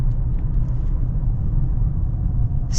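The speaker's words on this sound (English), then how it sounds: "4-liter V8, you cannot go wrong with this engine" A 2024 Mercedes S580 with a 4-liter V8 drives along under steady, close low-end cabin rumble, a smooth continuous engine and road drone with no talk.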